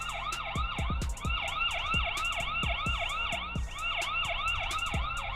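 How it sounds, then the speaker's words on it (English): A security camera's built-in siren, set off remotely, wails in a loud, steady electronic sweep that rises and falls in rapid repeating cycles with sharp pulsing clicks underneath, running continuously with no voices. "So here's the siren right now as well,"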